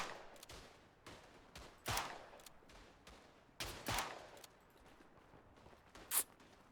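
Single shots from a Smith & Wesson No. 3 top-break single-action revolver in the video game Tannenberg, several sharp, separate reports spaced unevenly over a few seconds, moderately loud with echoing tails and quiet gaps between.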